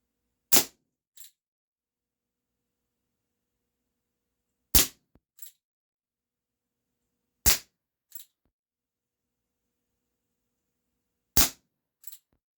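Remington 1875 CO2 revolver shots, four sharp loud cracks spaced several seconds apart, each followed by a fainter quick report, alone with no talking.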